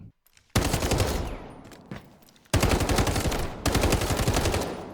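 An AUG assault rifle fires in the video game Delta Force in three loud, close, rapid automatic bursts separated by short pauses.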